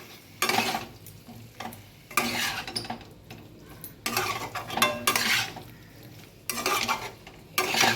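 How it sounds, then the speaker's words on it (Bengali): Boneless chicken and potatoes stir-fried in a pan for a curry, with bursts of spatula scraping and sizzling coming in several close, loud rounds separated by short quieter gaps. "ভালো করে কষিয়ে নিলাম।"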